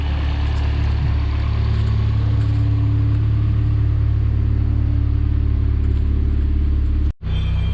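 Car engine running hard on a dyno in a workshop, a loud, sustained roar held steadily for several seconds, then abruptly cutting off near the end.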